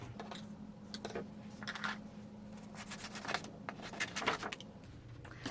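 Patterned host paper from a Pattern Party pack being cut into a small piece at a craft table, making a close series of crisp snipping and rustling scratches that come in short irregular bursts with no talking.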